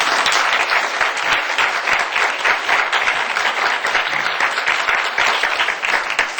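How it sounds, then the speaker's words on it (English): A conference audience at a social media panel gives a full round of applause, many hands clapping in a dense, steady stream from start to finish at a fairly close distance. "please give an amazing round of applause to this"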